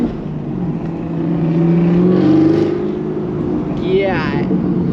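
Camaro ZL1 1LE engine holding a steady low rumble that swells around the middle as the car accelerates through a light, with a brief whine near the end and people talking over it inside the cabin.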